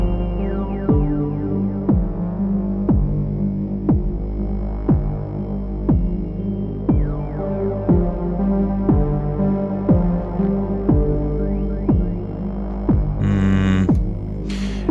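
A Korg Volca synthesizer plays a steady stream of slightly detuned notes in regular pulsing rhythm, loud and close, with brief bright noise bursts near the end and no talking.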